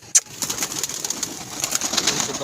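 Soft pigeon cooing mixed with other bird calls over a steady hiss of outdoor noise, with one sharp louder chirp near the start.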